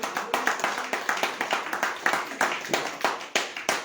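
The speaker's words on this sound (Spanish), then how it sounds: "Dale un fuerte aplauso al Señor si te queda fuerzas" Rhythmic clapping from a church congregation during an evangelical Spanish-language service, steady sharp beats repeating about every third of a second, fairly close and loud with a faint murmur of voices underneath.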